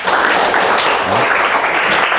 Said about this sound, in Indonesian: Sekali lagi kakak minta tepuk tangan buat semuanya